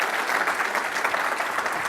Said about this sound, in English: I want to give a big round of applause to both Rosa